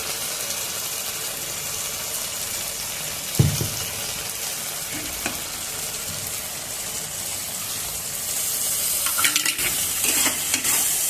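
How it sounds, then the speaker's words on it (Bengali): Spices and poppy seed paste are stirred and fried in a pan for a vegetarian chhana bora curry, a steady soft sizzle with a few sharp knocks of the spoon and busier scraping near the end. "পোস্ত বাটা দিয়ে ভালো করে নেড়ে ছেড়ে মশলা কষানো হয়ে গেছে"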